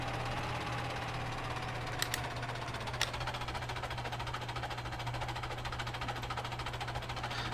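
Tractor engine idling and creeping in Farming Simulator 17, a steady low drone with a constant hum and faint rattle, interrupted by a few brief clicks.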